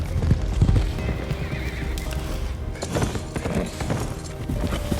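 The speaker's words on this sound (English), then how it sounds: "he saw a horse running out" A horse gallops with rapid, heavy hoofbeats and gives a loud neigh, close and vigorous throughout, set in a historical drama battle scene with no speech.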